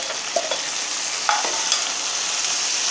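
Boiled intestine (kudal) fries in a pan with chilli for a Tamil varuval dish, sizzling loudly and steadily up close with a few scrape-like stirring sounds.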